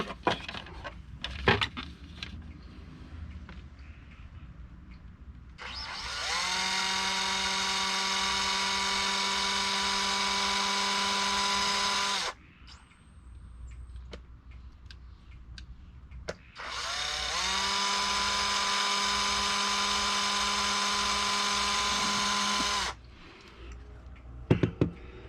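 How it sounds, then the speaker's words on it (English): A power drill with a 1/16 inch bit bores holes for a Revolution sonar mount on a Lowrance Ghost trolling motor, giving two steady whirring runs of about six seconds each, loud and close, separated by a quiet pause. "I use a 1/16 inch drill bit. I'll drill these 1/16 inch drill bit."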